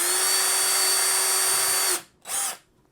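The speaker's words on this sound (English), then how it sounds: "I'm gonna drill in the test piece of plank" A cordless drill boring into a test piece of wood plank, a loud steady high whine for about two seconds that stops, followed by a brief second burst of drilling.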